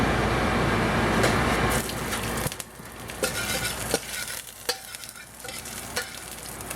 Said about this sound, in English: Then I'm going to be stir fry the ginger in it.